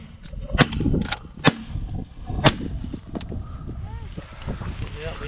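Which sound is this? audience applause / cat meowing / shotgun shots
shotgun shots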